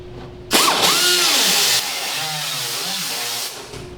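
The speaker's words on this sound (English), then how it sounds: "take a little grinder and stick it through there and grind the holes a little bit bigger" A small grinder working through bolt holes in a Ford F100 truck hood valance, a high whine that starts abruptly, bogs and recovers in pitch as it bites, then fades out after a few seconds.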